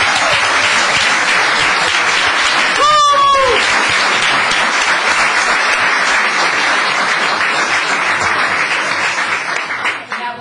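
Audience applause at a town council meeting: a sustained, dense wash of clapping filling the room for about ten seconds, with a brief voice or whistle cutting through near the start before the clapping tapers off at the end.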